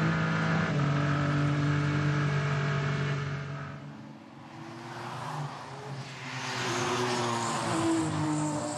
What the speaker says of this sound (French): voici cette Ferrari de 50 pour l'instant aux commandes. Elle va à la vitesse maximale.